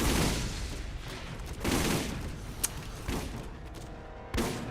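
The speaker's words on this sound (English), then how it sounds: "No, I don't want to shoot the Devastators. I want to shoot Ajax" Repeated heavy gunfire bursts in a naval battle video game, booming volleys every second or so with rumbling decay between them, fairly loud and without talk.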